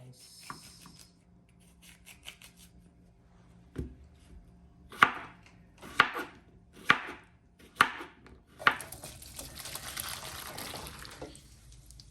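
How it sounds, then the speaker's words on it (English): Tomatoes being cut into pieces on a board: five distinct knife chops at an even pace, close and crisp, followed by a wet scraping rub. "Okay, so now I'm cutting my tomatoes into pieces."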